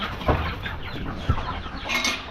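Darag chickens cluck close by in a farm setting: a few short, distinct clucks spaced about a second apart over soft background noise.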